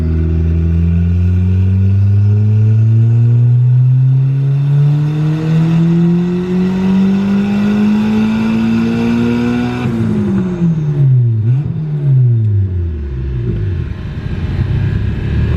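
A turbocharged Honda B16 four-cylinder on a dyno climbs steadily in a loud, continuous rev for about ten seconds, then drops off and blips briefly as the throttle closes, with no talking.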